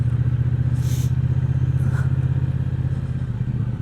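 A restored 1960s Triumph T120 motorcycle idles close by, its exhaust giving a steady, low, rapid thumping pulse, loud and unbroken.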